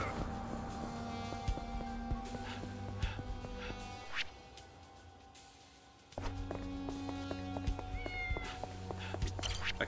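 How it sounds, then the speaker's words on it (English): Cat meowing in the Yakuza 6 video game, a few short cries over steady game music and ambience, with a quieter stretch midway. "A cat."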